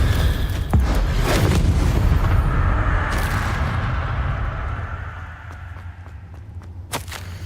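Bombarda and Confringo spells explode in the Hogwarts Legacy video game: sharp cracking blasts with whooshing bursts and deep booms, loudest early and again near the end, over a rumbling background.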